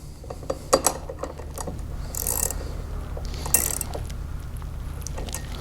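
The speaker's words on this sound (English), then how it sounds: "use your 9/16 wrench and your 7/32 Allen key and tighten that lock nut down on the back" Metal tool clicks and ratcheting taps as a lock nut on a Ryobi 40V 21-inch mower's CheckMate bracket is tightened clockwise with a 9/16 wrench and 7/32 Allen key; a few sharp clinks and short scrapes over steady room noise.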